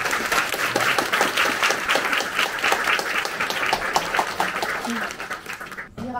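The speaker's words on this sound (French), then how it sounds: "J'aimerais bien qu'on les applaudisse quand même." An audience at a meeting with the graphic designers of the Harry Potter films claps steadily for several seconds, with a voice briefly audible over the applause near the end.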